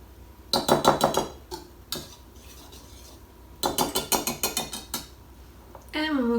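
Quick hand-mixing of dry chocolate chip cookie ingredients in a bowl, rapid bursts of clinking utensil scrapes and taps in two busy clusters with quieter gaps, close and clear.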